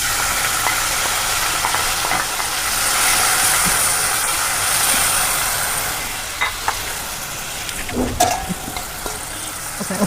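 Small dried fish (methadlu) fry in plenty of hot oil with turmeric, giving a steady loud hiss and sizzle with scattered pops and the scrape of stirring near the end.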